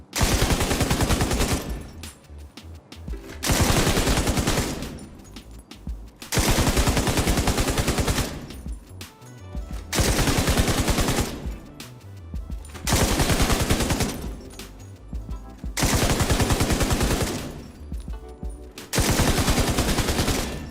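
In the Division 2 video game, a light machine gun fires at a firing range in long sustained bursts, six loud stretches of rapid automatic fire separated by short pauses.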